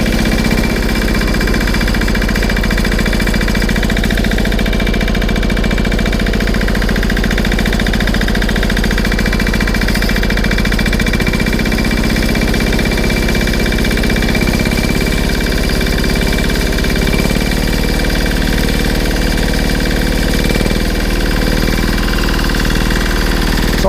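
A Petter AC1 diesel engine on a Simplicity M1 tractor runs steadily with a loud, rapid knocking chug, its governor surging so the speed swells and eases slightly at intervals, close and with no talk.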